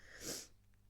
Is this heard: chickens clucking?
no